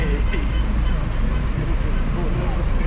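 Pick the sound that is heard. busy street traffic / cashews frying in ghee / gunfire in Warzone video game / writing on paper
busy street traffic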